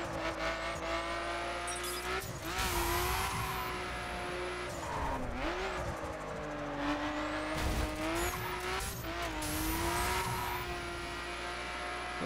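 Car engine in The Crew racing game, a Nissan Skyline driven in multiplayer PvP, revving steadily with pitch rising and falling through gear changes, plus tire squeals and skids, loud and close throughout with no talking.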